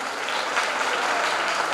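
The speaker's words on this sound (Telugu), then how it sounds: "అలాంటి టీచర్లందరూ ఒకసారి గట్టిగా మీరు చప్పట్లు కొట్టాలన్నా" A crowd of students claps loudly and steadily for their teachers at a school gathering of a defence academy, dense sustained applause with no talking.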